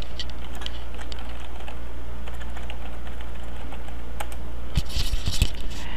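Rapid typing on a computer keyboard while entering a search term in a search box, steady close key clicks with a denser burst of keystrokes near the end.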